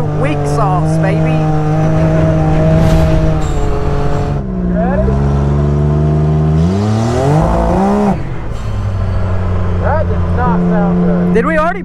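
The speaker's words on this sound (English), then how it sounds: "Hear the blow off valve?" A turbocharged car engine revs hard and continuously, loud and close, with sweeping pitch rises and falls as the throttle opens and lifts, and turbo blow-off valve whooshes on the overrun.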